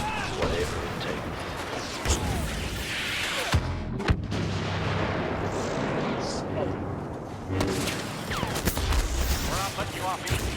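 Grenade blast in Star Wars Battlefront multiplayer, buried in dense, continuous battle noise of gunfire and explosions, with a sharp, loud burst near the middle before the fighting racket resumes.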